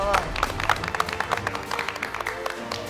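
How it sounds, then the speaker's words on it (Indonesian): A crowd at a MasterChef Indonesia grand final claps steadily for a few seconds, a dense patter of applause with some voices mixed in. "Tepuk tangan dong."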